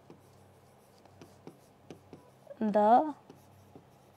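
A pen writes by hand during a live online class, making soft, evenly spaced taps and scratches close to the microphone. A short spoken phrase briefly cuts in.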